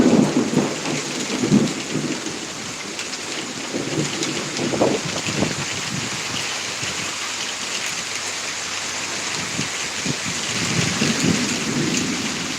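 Steady heavy rain pours throughout a thunderstorm in Pittsburg, Kansas, with low rumbles of thunder rolling in and out, loud and close, no voices.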